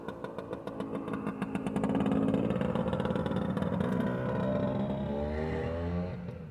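An old motorcycle engine runs close by, its steady pulsing chug swelling into a louder, rougher drone before easing back slightly, with no talk over it.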